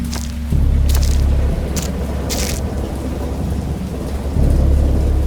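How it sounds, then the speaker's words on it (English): A thunderstorm rolls through with heavy rain. A dense wash of rain runs under deep rumbles of thunder, and a few sharp crackles break in near the start. "I have indistinct recollections of a great storm sometime after I reached the boat."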